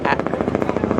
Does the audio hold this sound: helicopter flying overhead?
yes